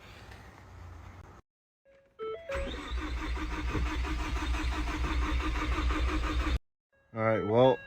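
A built engine in a Ford Focus ST, freshly filled with 91 fuel, cranks briefly then fires and holds a loud, steady idle for about four seconds before cutting off; a voice speaks briefly afterward.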